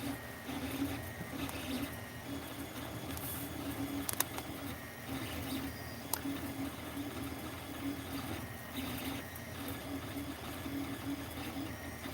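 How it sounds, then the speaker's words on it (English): A 3D printer printing a Benchy boat model hums and whirs steadily at low volume with a faint mechanical drone and a couple of brief clicks, no talking. "Maybe I should stop this print and then print again without the support."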